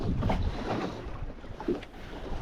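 Wind blowing across open water during wet-fly trout fishing, a steady low rumble and buffeting against the microphone with faint splashy texture, no voices.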